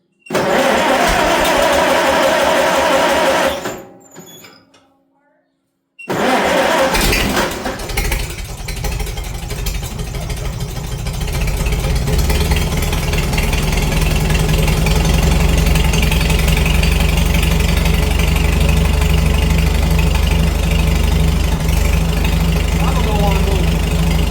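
A revived, previously stuck Farmall H tractor engine cranks, cuts out briefly, then fires and settles into a loud, rough, steady running chug that fills the rest of the stretch.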